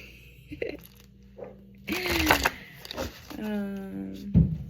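Tarot cards being shuffled in quick crisp bursts, with a voice speaking between the riffles.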